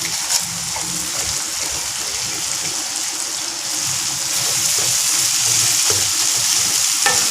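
Cabbage stir-frying in a wok with salt for mee goreng gives a steady, close sizzle and crackle, with stirring scrapes throughout and growing slightly louder toward the end.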